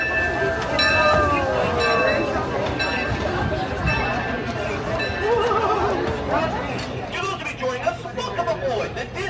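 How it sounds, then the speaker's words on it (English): The Disneyland Railroad train rolls past with steady rail rumble and mechanical clatter, a whistle-like tone early on, while crowd voices and someone speaking carry over it. "The Disneyland Railroad."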